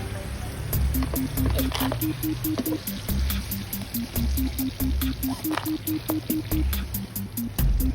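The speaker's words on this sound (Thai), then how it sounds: "ก็จะทอดพริกขี้หนูไว้ก่อน" Bird's eye garden chilies frying in oil in a pan for a spicy seafood basil stir-fry, a loud, steady close-up sizzle with crackling and a rapid ticking beneath.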